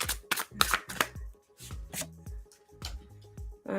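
Tarot cards being shuffled, a quick series of crisp riffles and taps in uneven bursts, close and soft.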